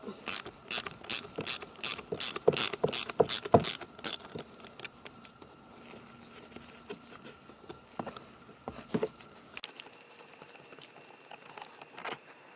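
Hand ratchet loosening a bolt during a COBB short throw shifter install on a 2003 Subaru WRX, a burst of rapid clicking strokes at first, then quieter metallic handling and scattered clicks, close up with no talking.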